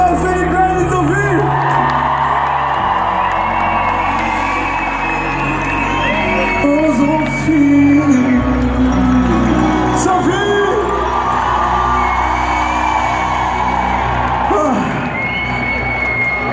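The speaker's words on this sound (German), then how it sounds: "Applaus für die kleine Sophie!" A live concert crowd in Berlin cheers, whoops and applauds for a nine-year-old girl, a dense, loud, continuous roar of many voices throughout.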